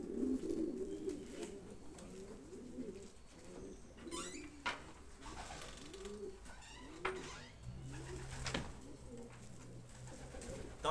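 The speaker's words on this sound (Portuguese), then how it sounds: "Pombo muito chique, esses três pombos que chegaram pra mim aí." Pigeons of old lineages cooing in a loft, soft low rolling coos repeating close by over a hissy background, with a few faint chirps and wing or perch rustles.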